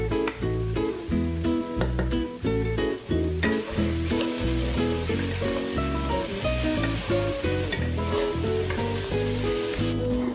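Potatoes and onion fry in a skillet, a steady close sizzle that runs the whole way with stirring and scraping noises on top.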